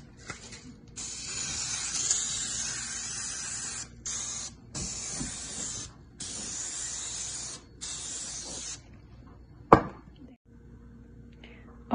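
Non-stick cooking spray hisses from a can onto a baking pan lined with parchment for a blueberry lemon cheesecake, in several bursts of varying length separated by short pauses, followed by a sharp click.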